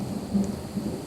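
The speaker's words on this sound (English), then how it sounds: "I don't know if you can hear that rolling thunder in the background" Rolling thunder from a nighttime storm with tornadoes nearby rumbles low and steady in the distance, with faint swells and no voices.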